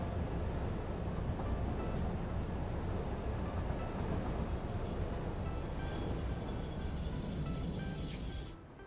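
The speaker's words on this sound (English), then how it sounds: "just let that train over there drive straight through us" A train in the video game Satisfactory drives past at close range, a steady, loud rumbling roar that holds for several seconds before dropping away at the very end, with no talking.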